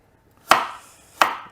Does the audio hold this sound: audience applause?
no